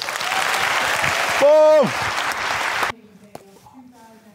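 Audience applause at World Employer Branding Day 2024 greets a speaker coming on stage, a loud wash of clapping with a brief sung or musical swell in the middle, then cutting off to quieter speech.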